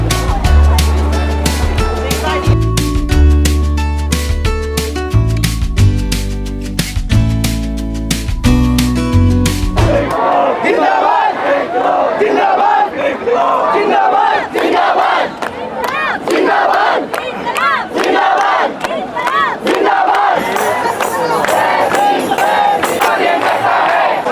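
A large crowd near Jantar Mantar in Delhi, heard as a loud, dense mass of many voices calling and chanting over roughly fourteen seconds, after a stretch of music at the start.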